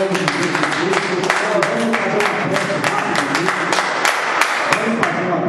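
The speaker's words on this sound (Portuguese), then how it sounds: "Glória a Deus com as palmas nesta noite." A church congregation claps rhythmically together during an evening service, a loud, steady beat of many hands mixed with singing or voices.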